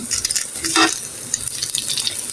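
A snack frying in a small amount of oil in a pan, with steady sizzling close up and a brief scrape of stirring partway through, no talking.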